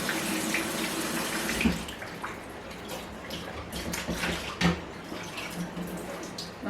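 Rutabaga pieces plunged into ice water: continuous splashing and sloshing water with a couple of louder splashes, heard close up with no speech.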